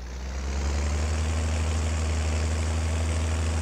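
A tractor engine in the farming game Farming Simulator 22 runs at a steady, deep idle with a constant low hum that rises slightly at the start and then holds even, with no talk over it.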